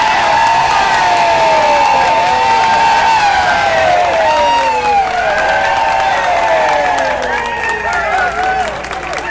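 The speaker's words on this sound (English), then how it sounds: "you got to all start clapping and whooping it up" A crowd claps and whoops after a sibling music act's performance at the Texas Capitol, with loud sustained applause and many overlapping high cheers and shouts throughout, tapering slightly at the end.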